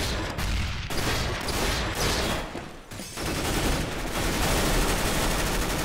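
Dense, rapid bursts of gunfire in CS:GO's co-op zombie mode, loud and continuous with overlapping shots and brief lulls between volleys.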